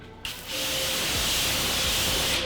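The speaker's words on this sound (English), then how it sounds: "I'm going to pre-spray the whole situation." Cleaner pre-sprayed onto a car wheel and tire in a garage close to a wall: a steady, loud, close hiss of spray starts after a brief pause and runs without a break to the end.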